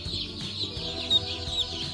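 Young meat chickens, part of a batch of a hundred chicks on a farm, chirp continuously in a high, dense chorus close by, with a couple of slightly louder peeps standing out.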